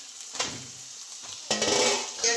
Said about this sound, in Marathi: आता कांदा टाकते.